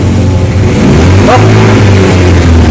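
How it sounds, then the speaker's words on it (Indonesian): A Yamaha Mio 125 scooter engine being serviced for an error code revs up loudly and close, then drops back, a brief throttle blip over steady idling. "Setelah itu coba digas mas, gaspol langsung turunin."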